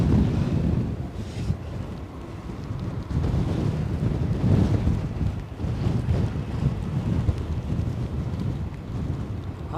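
Strong, gusty wind buffets the microphone continuously at Edinburgh airport, a loud rumbling roar that swells and eases with gusts of over 50 mph, with no other sound standing out.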